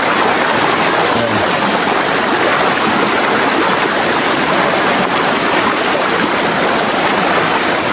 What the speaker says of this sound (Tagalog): Medyo malakas yung agos ng tubig